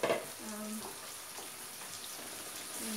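Cornstarch-coated vegetarian Chinese food frying in oil, a steady hiss and sizzle running throughout with a brief scrape of stirring near the start.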